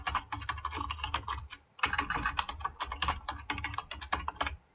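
Rapid, continuous clatter of keys on a computer keyboard as accident details are entered into a form, close and fairly quiet, with one short pause partway through.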